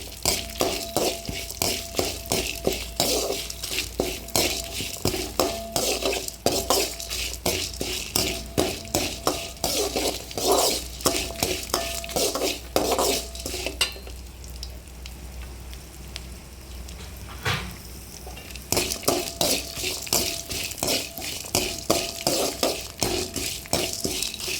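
Garlic, chilies and curry leaves fry in a pan for Kongunadu-style sambar, a steady crackling sizzle with scraping stirs and clinks against the pan, briefly dropping quieter midway before the frying crackle returns.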